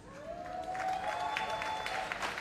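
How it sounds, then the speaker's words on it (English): Faint, distant applause from an awards ceremony audience at the Marcus Garvey Awards for Excellence in the Performing Arts, under a thin sustained tone and soft background murmur. "A big round of applause both for our guest speaker, Minister Morris Dixon, and our creative talent, the artist, Mr. Patrick Hall"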